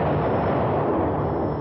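A D-30 howitzer fires during direct-fire shooting, a loud, sustained blast of broadband noise lasting over a second with no quiet gaps.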